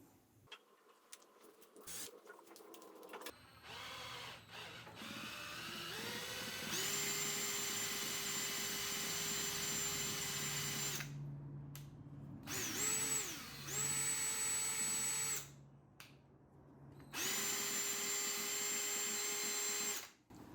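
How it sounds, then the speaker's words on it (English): A cordless battery drill drives a small improvised water pump, its motor whining in long sustained runs that start, stop and shift pitch as it loads up, with short silent gaps between bursts. "Then to power it, I'm just going to use a battery drill."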